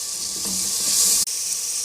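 Whole spices, white cumin and bay leaves dropped into hot oil give a bright, hissing sizzle that swells over a second or so, close by and steady, with no voices.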